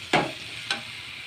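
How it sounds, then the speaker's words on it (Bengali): Taro stolons coated in turmeric are stir-fried in a pan, with two short scraping stirs and a soft sizzle between them. No one speaks. "এই যে এবার এই লতিটা দিয়ে এইভাবে কষাতে থাকবো,"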